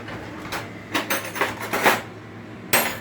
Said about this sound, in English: I'm going to press down with the fork.